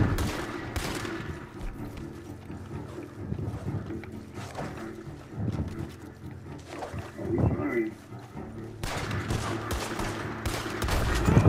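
Gunshots in Red Dead Online ring out in scattered bursts, some sharp and close and others more distant, over a rumbling outdoor background while voices talk through much of it.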